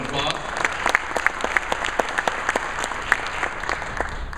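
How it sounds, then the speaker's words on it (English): Loud audience applause at an Achievement Week 2011 keynote event, dense clapping from a large crowd with distinct individual claps popping out near the front, sustained evenly throughout with some voices mixed in. "Give her a round of applause."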